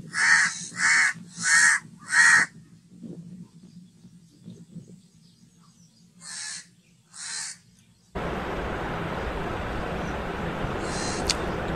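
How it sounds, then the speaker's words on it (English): Crows cawing near their nest, four loud close caws in quick succession, then quiet, then two more caws a few seconds later. Steady outdoor noise, like wind or rain, fills the last few seconds. "the crows were always surrounding the nest"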